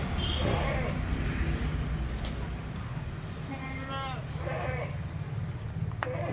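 Young Malabari goats bleat a few times, short wavering cries at moderate distance over steady outdoor hiss, with a person talking nearby.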